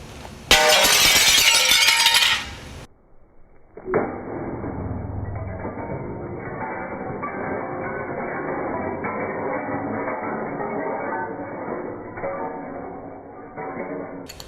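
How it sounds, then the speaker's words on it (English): Mirror glass is smashed with a wrench: one loud, close shattering crash lasting a couple of seconds, then a quieter stretch of steady background sound. "So what we want to do is we're going to break this glass."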